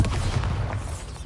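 Bombarda spell explosion in Hogwarts Legacy, a short, deep booming blast that rumbles briefly and fades, with no talking over it.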